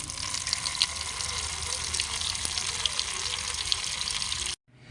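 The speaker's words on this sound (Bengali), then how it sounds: "এখন জলে পরিষ্কার করে ধুয়ে নেব।" Tap water runs steadily over bhola fish being washed clean, a continuous close splashing gush that stops abruptly near the end.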